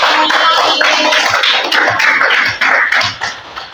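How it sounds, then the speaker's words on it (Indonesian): Classroom applause from fourth-grade primary school pupils cheering a classmate, a dense burst of many small hands clapping close by for a few seconds before tapering off. "tepuk tangannya semua untuk Anjani"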